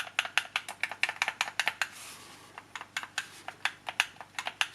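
Google Stadia controller triggers pressed and released: rapid, close, sharp plastic clicks in quick irregular bursts, with a short pause midway, loud and alone.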